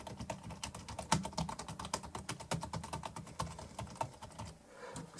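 Rapid typing on a computer keyboard hooked up to a phone, a dense run of crisp key clicks at a steady fast pace, close and fairly quiet, that trails off near the end.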